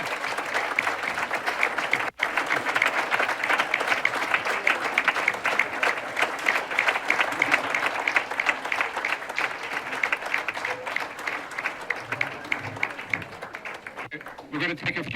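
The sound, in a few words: audience applause after candidate statements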